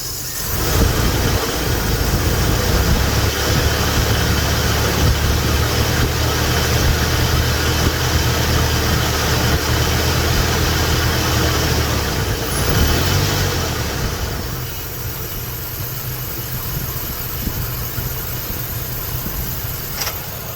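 A 2004 Dodge Ram 1500 engine runs close by with a low, steady hum that lifts slightly under a little throttle, then eases back toward idle near the end. It stays alone with no voices.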